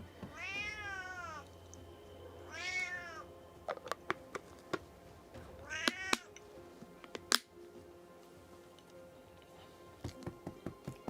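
A cat, a bully toward another cat being cared for, meows loudly three times with long pauses between, followed by scattered sharp taps and clicks in a quiet setting.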